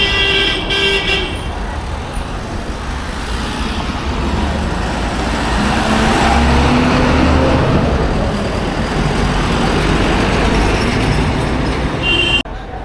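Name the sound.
road traffic, many cars passing near Churchgate, Mumbai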